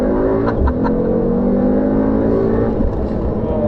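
A 2021 Mercedes-AMG E 63 S launching from a standstill in race-start mode, its engine roaring steadily and loudly throughout a hard 0 to 100 pull, with no talk over it.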